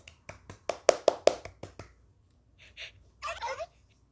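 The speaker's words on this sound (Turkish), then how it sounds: "Alkış." Clapping sound effect in the Toca Boca Avatar World game at a character's birthday party: a quick run of about nine crisp, close hand claps in an accelerating then slowing rhythm, followed by a few soft cartoonish effect sounds.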